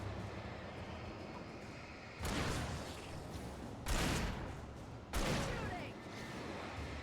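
Gunfire in the video game Alan Wake Remastered: three loud, broad bursts of shots a second or so apart, over a low rumbling background.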